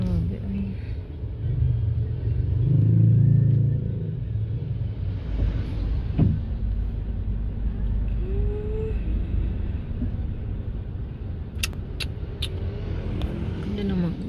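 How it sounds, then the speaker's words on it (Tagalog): Heavy, slow-moving road traffic on a narrow inner road lined with schools: a steady low rumble of engines, with one swell of louder revving near the start. Voices talk over it. "Grabe ang traffic."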